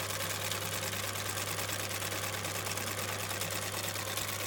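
A sewing machine stitches a line along fabric for a shabby-style pencil pouch, sewing forward and back; a steady, continuous motor whir with a constant hum runs throughout at moderate level, with no talking.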